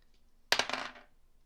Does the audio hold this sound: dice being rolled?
yes